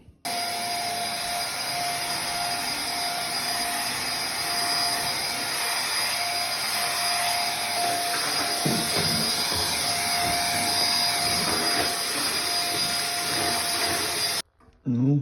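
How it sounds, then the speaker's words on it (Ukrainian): A household vacuum cleaner runs steadily for about fourteen seconds, its loud constant whine and roar shifting slightly as it moves across the floor, then cuts off near the end, close to the microphone. "І треба сьогодні попилососити"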